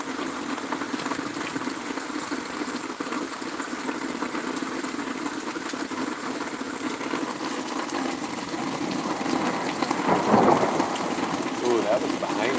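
Steady broadband rain hiss of a passing thunderstorm with a louder swell of rumbling thunder near the end, running continuously and fairly loud throughout.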